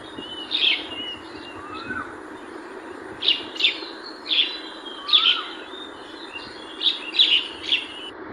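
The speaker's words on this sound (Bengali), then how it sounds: "কোকিলের কুহুতান" Repeated clear bird calls in short bursts, several spaced across the clip, over a faint background hum; sounds like a koel calling from a distance.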